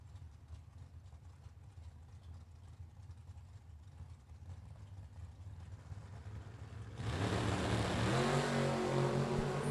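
Drag racing truck engine at the start line in a World Super Pro Challenge event, a low rumble that erupts into a loud, harsh revving roar near the end, rising in pitch.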